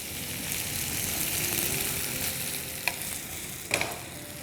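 Parsi-style potatoes fry in an open pan over low heat with a constant, close crackling sizzle. A couple of brief spatula scrapes cut in near the end, and no voice is heard.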